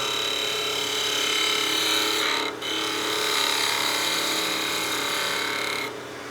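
A wooden whistle spins on a wood lathe while a tool refines the curve at its end, giving a steady, loud whirring hum with a short dip partway through.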